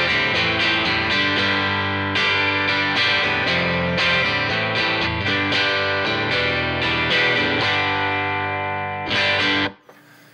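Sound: electric guitar through Suhr Reactive Load, Celestion A-Type IR

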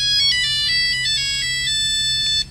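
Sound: phone ringtone in roleplay video game

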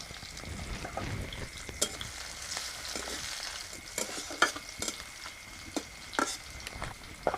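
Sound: cumin, chopped onion and green chilli frying in hot oil

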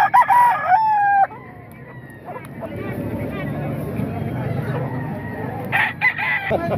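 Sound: rooster crowing and chickens clucking

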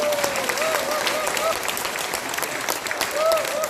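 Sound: audience applause

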